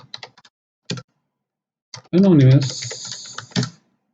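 Commands are typed on a computer keyboard in short clusters of sharp, close key clicks, followed by a person talking over a few final taps.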